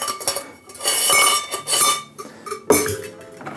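Film reels go into a plastic developing tank and the lid is fitted on, making a run of close clicks, rattles and knocks with brief pauses and a firmer snap near the end.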